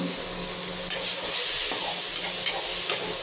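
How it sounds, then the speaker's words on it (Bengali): Chopped onions fry in hot oil in a pan for egg curry while being stirred, a loud close sizzle with scraping stir strokes layered over the steady hiss, no talking. "পেঁয়াজটাকে নাড়বো, ভালো করে নাড়তে হবে বেশি করে।"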